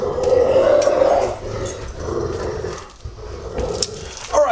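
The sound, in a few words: dogs playing and growling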